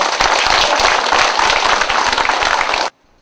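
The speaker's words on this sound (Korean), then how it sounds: "그래서 오신 여러분에게 모두 다 같이 박수로 한번 환영하고" Dense, loud applause from an audience welcoming guests at an election campaign event, steady sustained clapping that cuts off abruptly near the end.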